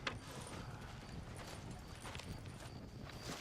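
Horse hooves clip-clop steadily in the Western video game Red Dead Redemption, a continuous, fairly quiet rhythm of footfalls over a dense background of game ambience.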